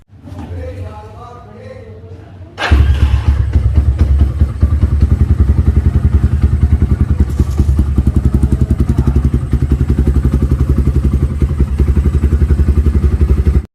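A motorcycle with a freshly reconnected battery is push-started: after a few seconds of low rolling clatter the engine catches with a sudden loud burst and settles into a steady, throbbing idle, close and continuous.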